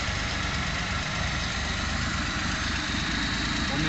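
A Suzuki Scrum with an F6A engine idles steadily after repair work for a hard start, high RPM and hesitation on acceleration, a continuous low rumbling hum at close range with no speech over it.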